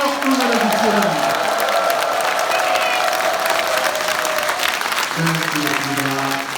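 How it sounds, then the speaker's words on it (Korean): Dense applause and cheering from a crowd at a public event, a steady wash of clapping that fades slightly toward the end as a voice comes in over it. "뜨거운 박수와 함성으로 응원해 주시기 바랍니다"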